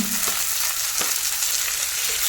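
Chopped tomatoes fry in a pan in a home kitchen, a steady close sizzle running throughout with a couple of brief stirring clicks.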